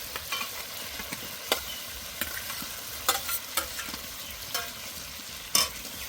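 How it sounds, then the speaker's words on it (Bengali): A potato and eggplant curry with spices fries in oil in a pan, a soft steady sizzle broken by occasional sharp spatula scrapes, close up and fairly quiet. "আবারও কিছুক্ষণ কষে নেব।"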